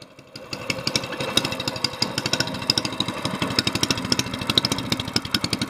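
A small mud motor boat engine, newly fitted with homemade gaskets, sputters to life and settles into a rapid, rhythmic chugging run, close and loud, no talking.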